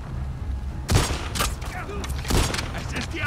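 Gunshots in The Last of Us Part II: two or three loud, sharp bursts of gunfire with booming low ends ring out close by, spaced apart, amid quieter background sounds.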